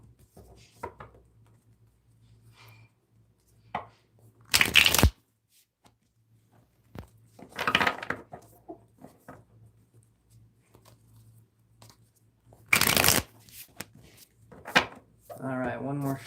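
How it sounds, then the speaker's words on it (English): A tarot card deck is shuffled in a few brief riffling bursts, separated by quiet stretches with small handling sounds and a low steady hum. "let me shuffle the tarot deck real quick"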